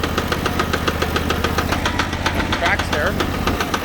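A Sears Suburban garden tractor runs with its transaxle knocking, a steady rapid mechanical pounding over engine drone, with someone talking briefly.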